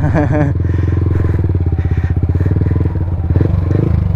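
A motorcycle carrying a passenger rides close by, its engine giving a loud throbbing pulse that rises and falls in pitch, with a brief voice at the start.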